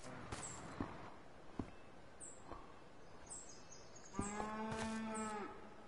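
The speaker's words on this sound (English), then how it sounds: "Is that a cow?" A cow in the video game Lawn Mowing Simulator gives one long, fairly close moo near the end, over a quiet outdoor backdrop of birds chirping and a few soft thumps.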